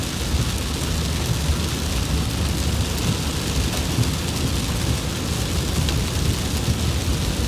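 Heavy rain pours down in a dense, continuous roar on a road near Andalusia, Alabama, loud and unbroken, with a deep rumbling underneath.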